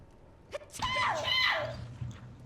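A single sneeze bursts out close by, followed by a short breathy vocal trail, with a faint voice nearby in a quiet room.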